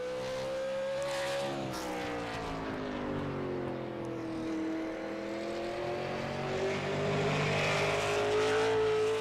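A Super Late Model race car on a qualifying lap at North Wilkesboro, its engine droning steadily at high revs with slowly shifting pitch, fairly distant but continuous throughout.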